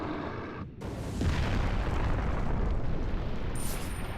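A grenade goes off in Resident Evil 4, a sudden deep boom about a second in that swells into a sustained rumbling roar, moderately loud and with no talk over it.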